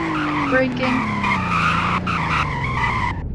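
A car in the Roblox driving game Greenville, a six-speed model with a 145 mph top speed, brakes hard and skids, its tires squealing in a continuous screech over a falling engine drone for about three seconds.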